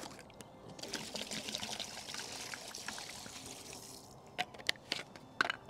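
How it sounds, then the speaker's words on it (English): A whole bottle of lawn wetting agent glugs and streams steadily into a garden sprayer, a close, even pour that ends in a few final drips and splashes. "I'm just going to put the whole bottle in."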